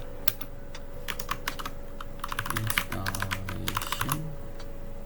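Rapid bursts of keystrokes on a computer keyboard while entering a command during a Proxmox server demonstration, clicking in uneven clusters with short pauses, close and clear under a steady hum.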